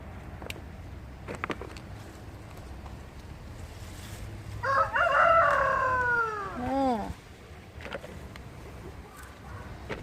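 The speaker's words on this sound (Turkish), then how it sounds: "Tavuklarım her videoda size sesleniyor." A rooster crows once, a drawn-out rising and falling call, with faint background noise and a few scattered clucks around it.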